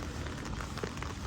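Steady rain falls on a wet March day at Lake Como near the Swiss border, a dense, close patter with no breaks.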